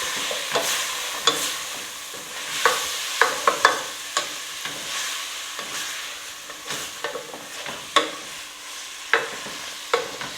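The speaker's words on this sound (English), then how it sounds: "And now I'm going to mix it." Ground beef taco mixture seasoned with nutmeg and taco seasoning is stirred in a hot pan, giving a steady sizzle broken by repeated scraping strokes and occasional sharper utensil knocks, with no talking.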